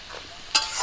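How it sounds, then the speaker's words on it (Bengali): Pumpkin pieces fry in a pan with salt and turmeric, giving a soft sizzle and then two quick scraping stirs close by. "লবণ হলুদ দিয়ে কুমড়োগুলো একটু ভাজা ভাজা করে নেব।"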